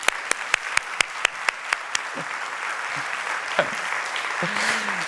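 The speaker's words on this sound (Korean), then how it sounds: "우리 베이시스트한테만 박수 한번 부탁드리겠습니다" Church congregation applauds a worship band's bassist during a summer youth service, starting with a few sharp, separate claps that swell into steady, dense clapping from a full room; a voice murmurs briefly near the end.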